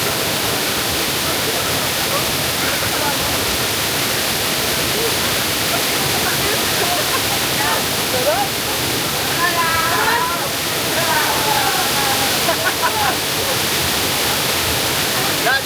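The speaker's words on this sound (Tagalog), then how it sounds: "Natural waterfall." A natural waterfall at Badiang Spring Resort roars as a steady, dense wash of falling water filling the whole scene, with faint voices and splashes partly buried beneath it.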